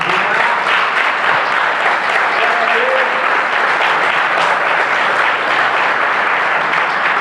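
A church congregation applauding, a sustained, loud wash of many hands clapping that fills the whole stretch evenly, with faint voices mixed in beneath.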